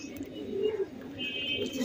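Giribaz high-flyer pigeons coo softly and steadily at close range, a low throaty murmur with faint chirps above it and no talk.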